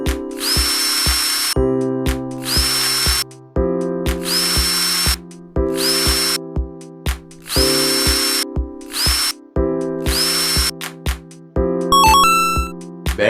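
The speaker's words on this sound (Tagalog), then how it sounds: "Ngayon po ay check po natin kung kaya nito magbaon at magtanggal ng screw." A cordless DeWalt drill, the brand's cheapest model, drives a screw in and then backs it out, in repeated loud whining bursts with short pauses between them, close up and with no talk.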